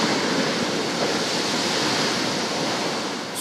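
Heavy ocean surf pounds the shore at Port-Bouët during a destructive tidal surge, a loud, unbroken roaring wash of breaking waves with no voices.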